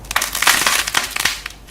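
Clay with a hardened outer shell breaks apart in a dense run of crisp, close cracking and crunching snaps, loud and unbroken with no voices over it.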